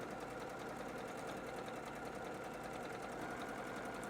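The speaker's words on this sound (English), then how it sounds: "Just letting the machine do most all of the work, just kind of steering with my hands" Sewing machine running continuously while stitching quilt fabric, a steady rapid mechanical hum and patter at low level with no pauses and no talk.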